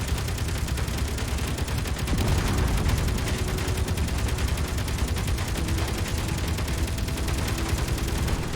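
Sustained rapid gunfire at an enemy turret in Space Engineers, a dense loud machine-gun rattle running unbroken through the whole stretch with no voices.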